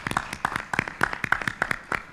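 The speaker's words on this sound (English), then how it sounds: "Let's give her a round of applause." Scattered clapping from a conference audience at a tech summit in Tunis, a steady run of separate claps with no voices over it.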